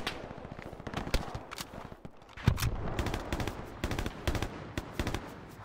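Sustained bursts of automatic and single-shot gunfire from a WW2 video game firefight, sharp repeated cracks at varied distances, loud and continuous with no talk over it.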